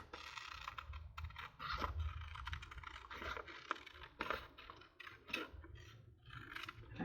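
Scissors snip a curve through paper for a glue book, giving quiet close crisp cuts and rustles in an irregular stop-start rhythm; no talking.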